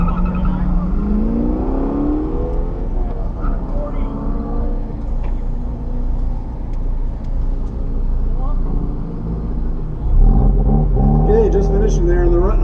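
A 2013 Subaru BRZ on an SCCA Pro Solo autocross course revs and accelerates with a steady engine drone throughout, under continuous announcer talk, with a louder close pass near the end.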